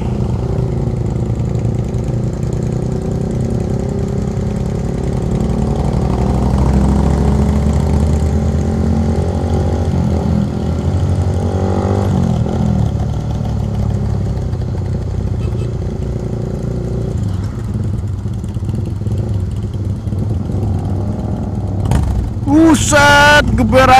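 A motorcycle engine rumbles and revs on a night ride toward Puncak Bogor, a steady loud drone that holds throughout and swells in a sharper burst at the very end.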